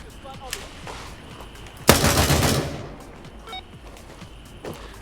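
Gunfire in the video game Gray Zone Warfare: one loud, sharp burst of shots cracks out near the middle and fades over about a second, over a quiet ambient background.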